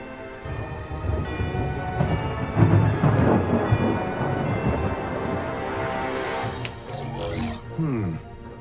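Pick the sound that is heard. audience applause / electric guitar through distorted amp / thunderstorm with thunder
thunderstorm with thunder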